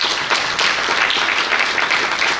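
Steady applause from an audience at an international higher education event, dense clapping filling the whole stretch at a constant level with no voices over it.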